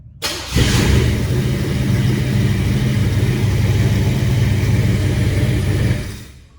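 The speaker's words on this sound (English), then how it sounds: "car running and driving, man." A Chevy with a swapped-in 350 V8 fires up and settles into a loud, steady rumbling idle with slight revving, close by and alone, then cuts off at the end.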